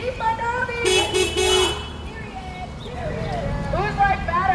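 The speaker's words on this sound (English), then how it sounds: "Honk that horn." Car horns honk at a street protest in Seattle, a short burst of several toots followed by more scattered honking, with a crowd shouting and chanting throughout.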